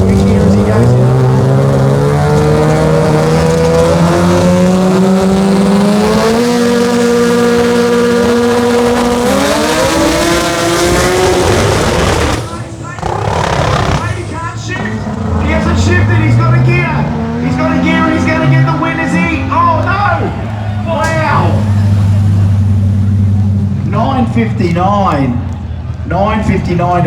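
Drag racing at the Brisbane Jamboree as a 13V automatic sedan roars down the strip, its loud engine climbing through gears before it fades, then further engine runs and revving follow with a commentator talking over the noise.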